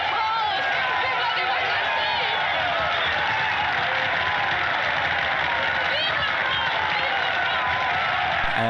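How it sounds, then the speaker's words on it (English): A crowd in a Casablanca film scene cheers loudly and continuously, a dense roar of voices and clapping with singing mixed in, holding steady without pause from start to finish. "everyone starts cheering."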